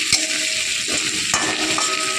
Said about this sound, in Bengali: মামনি এবার পেঁয়াজ আদা টমেটো রসুন ধনেপাতা কাঁচা লঙ্কা সব পাঁচফোড়নের সাথে তেলে একটু মিশিয়ে নিল।